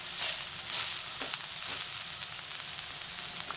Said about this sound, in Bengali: ওই পিঠটা একটু ভাজা ভাজা করে নেবো।